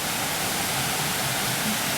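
Steady broadband rush of a waterfall beside a mini golf course, continuous and fairly close with no breaks or voices.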